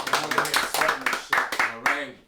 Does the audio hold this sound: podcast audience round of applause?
yes